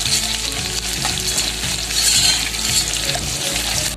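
Green chillies fry in hot oil with a loud, continuous sizzle close by, broken by stirring scrapes and a brief watery splash, and no one speaks.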